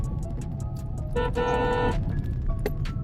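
A car cruises along a highway in India, with a steady, loud road and engine rumble throughout and a brief tonal horn-like blast near the middle.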